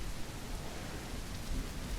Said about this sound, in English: A storm soon sets in,